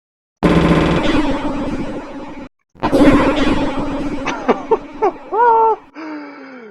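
Rapid, stuttering bursts of distorted, time-stretched audio rattle like machine-gun fire, broken by a short gap, then warbling, pitch-bending chirps trail off.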